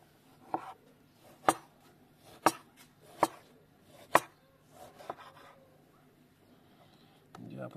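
A knife chops a large fish head on a board, about six sharp, spaced knocks, fairly close, with quiet talk and handling sounds around them, for a Romanian fish-head borscht.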